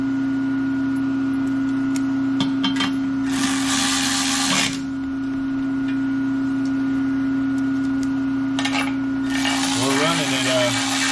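A manual lathe takes a skim cut on the face of a 6L80-E transmission bell housing at about 685 RPM, with a steady tonal machine hum and two bursts of bright cutting noise, mid-distance.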